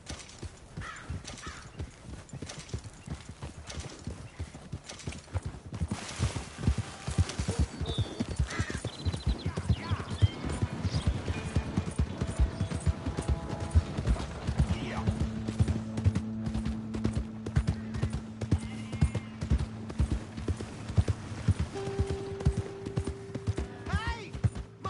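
In Red Dead Redemption 2, horse hooves clip-clop at a steady, rhythmic pace throughout, fairly close and loud, with voices and occasional whinnies layered over the hoofbeats.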